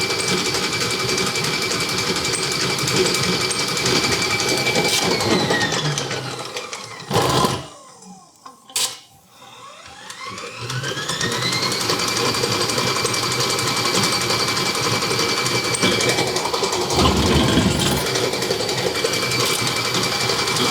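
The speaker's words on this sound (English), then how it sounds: "This is the new model KitchenAid. This is when you're whipping whipped cream." A new-model KitchenAid 7-quart stand mixer whips cream with a steady loud motor whine that drops away and dips out around the middle before spinning back up, then runs evenly to the end with no talking.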